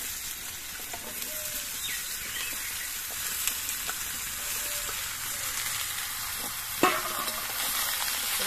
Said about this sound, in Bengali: কালো জিরে আর শুকনো লঙ্কাটা একটু ভেজে নিয়ে এর মধ্যে আমি লাউ গুলো দিয়ে দিচ্ছি